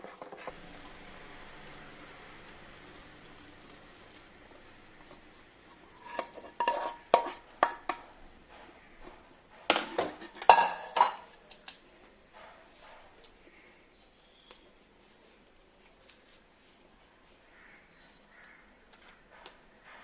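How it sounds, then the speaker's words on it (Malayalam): Hot ghee-rich Mysore Pak mixture is scraped and poured from a pan into a ghee-greased tray, giving bursts of metal clatter and scraping in two clusters amid quieter handling and soft kitchen noise. "ഇനി ഇത് നമുക്ക് ഒരു നെയ്യ് പുരട്ടിയ ഒരു ട്രേയിലോട്ട് അങ്ങ് മാറ്റാം"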